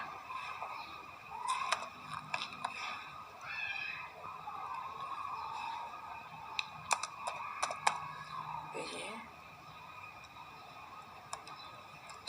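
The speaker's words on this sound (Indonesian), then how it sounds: "Kita ketikkan var" Keystrokes on a computer keyboard while entering Node.js code at a terminal REPL, a scattered run of light clicks over a steady background hum.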